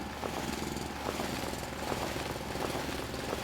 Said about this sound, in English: I think I can just drill this bit out by hand